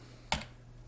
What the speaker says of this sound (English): tap 7 on my keyboard